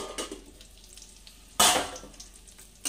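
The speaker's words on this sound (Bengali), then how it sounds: "এদিকে পটলগুলো ভাজা হচ্ছে" Pointed gourd (potol) sizzles in oil in a pan, a soft close frying crackle with one sharp louder burst of spitting midway.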